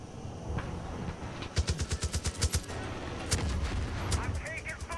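Gunfire in Far Cry 5 comes as a quick burst of eight or nine sharp, loud shots in steady rhythm, followed by a heavier blast and scattered later cracks over game ambience.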